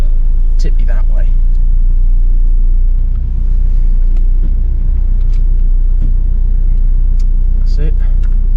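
A Mitsubishi L200 pickup crawls slowly off-road on a slippery, steep test course, its engine a steady low rumble throughout, with occasional knocks and someone talking over it.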